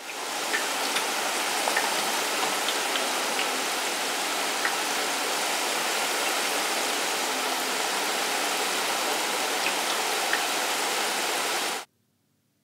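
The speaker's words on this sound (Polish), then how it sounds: "Posłuchajcie, oto zwykły deszcz." Steady rain pours down in a dense, even hiss with scattered drops standing out, then stops abruptly near the end.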